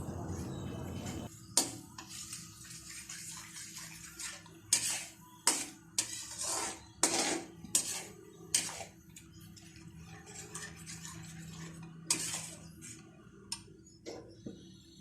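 A spoon clinks and scrapes against a cooking pot while spices and salt are stirred into a turnip dish, a series of sharp irregular taps over a quiet background.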